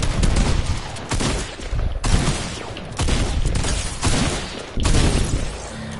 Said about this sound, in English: It's called a shotgun.